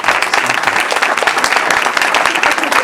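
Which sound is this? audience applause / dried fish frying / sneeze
audience applause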